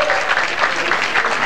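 Crowd applause for a candlepin bowling shot that lands right on the pin, a dense, loud, continuous wash of clapping from a large audience with no pause, the cheering texture filling the room.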